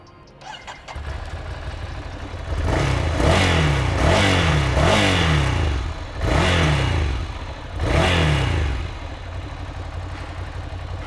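A 2021 Ducati Scrambler Nightshift motorcycle engine starts, then idles and is revved several times in sharp, loud bursts that rise and fall back to a throbbing idle, heard up close.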